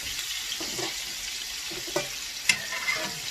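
Steak frying in butter in a pan, a steady close sizzle with a few soft scrapes and clinks of a spoon, no talking.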